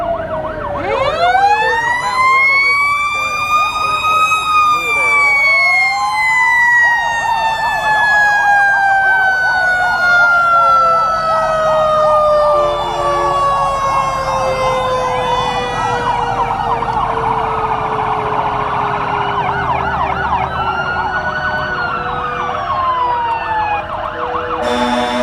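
Several fire truck sirens wail and rise and fall together at a small-town parade, loud and close as a rural brush truck rolls past, the overlapping tones sweeping up and down throughout.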